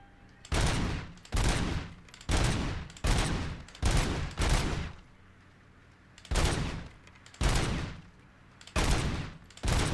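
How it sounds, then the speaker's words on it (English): A RoboCop Rogue City gun stuck in burst-fire mode, firing loud, close, short bursts in an uneven rhythm of about eight volleys with brief pauses between them. "my gun still ain't doing its machine gun fire. It's still stuck in weird burst fire mode."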